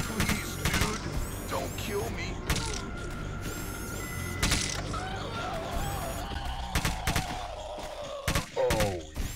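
Gunfire and clanking mechanical effects from the Robocop video game running on the Xemu Xbox emulator, with repeated sharp bursts, metallic ratcheting and whines layered through a busy, dense game soundtrack.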